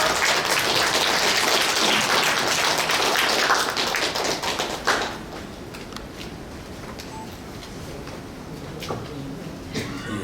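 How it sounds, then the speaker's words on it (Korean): Audience applause at a New Year gathering of a civic association, loud dense clapping for about five seconds that thins into scattered claps with room noise. "여러분 박수 부탁드리겠습니다."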